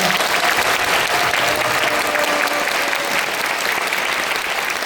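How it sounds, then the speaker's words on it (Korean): A large audience applauds steadily for four religious leaders at a peace music-and-talk concert in a Won Buddhist hall, dense continuous clapping filling the room throughout. "먼저는 오늘 발제를 준비해 주신 네 분의 종교 지도자분들에게 큰 박수 부탁드리겠습니다"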